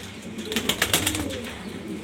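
Grizzle pigeons cooing in a loft, a run of soft throaty coos pulsing close by, with faint chirps and a little background rustle and no talking.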